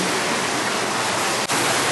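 Rushing river flowing through the hot spring town of Ginzan Onsen in Yamagata, a loud, continuous broadband roar of water heard up close and alone.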